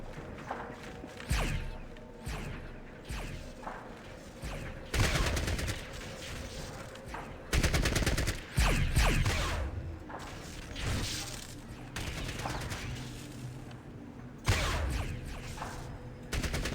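Turret gunfire in Fallout Tactics crackles in repeated loud bursts of rapid shots, with some single heavier blasts between them and brief pauses, a quiet voice faintly underneath.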